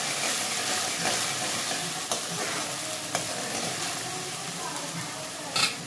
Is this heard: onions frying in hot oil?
yes